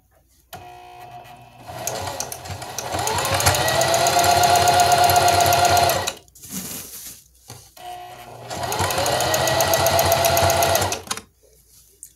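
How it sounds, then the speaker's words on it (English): A sewing machine stitches in two fast, steady bursts, its motor whirring and needle clattering rhythmically, with a brief pause between runs. "My first time sewing on this sewing machine."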